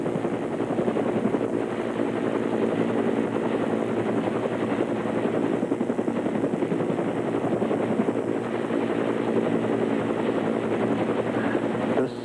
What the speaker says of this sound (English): Helicopter, the Apache helicopter,